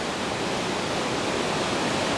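Staubbach Waterfall in the Swiss Alps roars as a constant, loud, broadband rush of falling water close by, with no voices.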